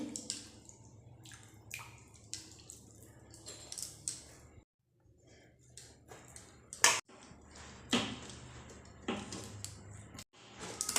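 Dough of flour and water is kneaded by hand for a snack recipe, giving soft wet squishes and sticky slaps in irregular bursts, close and fairly quiet, with a brief pause midway.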